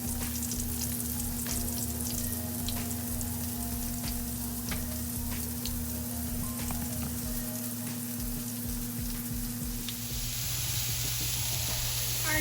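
Battered onion rings fry in hot oil with a steady, dense sizzle and crackle throughout, close and loud, with no talking.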